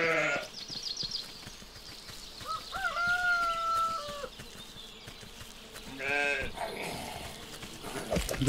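Sheep in the video game Force of Nature bleat in a few wavering cries that carry over steady game ambience, with clucking fowl and a goat-like bleat mixed in.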